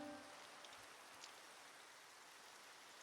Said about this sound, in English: Alright, that's rain, but I don't think it's a thunderstorm.